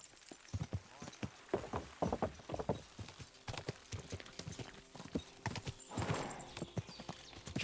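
Video game horse galloping: rapid hoofbeats in a dense clip-clop rhythm close up, with a brief snort or whinny near the end.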